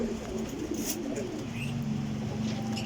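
A pigeon coos in low repeated murmurs close by, with soft rustling around it in a pigeon loft, and no talk.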